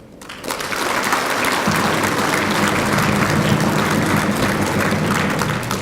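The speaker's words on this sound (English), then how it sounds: "a history-making achievement worthy of a round of applause" A crowd at the 2019 International Prime Minister's Awards breaks into applause, swelling within the first second into dense, sustained clapping that stays loud and even throughout with a low hum underneath.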